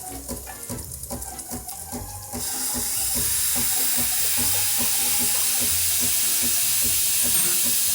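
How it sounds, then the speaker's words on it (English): A Breville Barista Pro espresso machine's steam wand starts up with gurgling, spitting water sounds that after about two seconds give way to a loud, steady rushing hiss of steam. "So first I'm gonna start by turning on the steam and letting it kind of get started."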